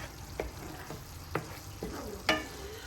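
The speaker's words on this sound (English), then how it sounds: "And keep stirring." A creamy garlic and herb sauce is stirred in a pan over an outdoor cooking fire, giving a soft steady sizzle broken by several distinct scraping strokes of the utensil, no voices present.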